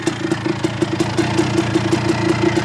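A 1987 Kawasaki KDX200 motorcycle engine idles steadily up close, a loud, even two-stroke putter with regular rapid pulses throughout.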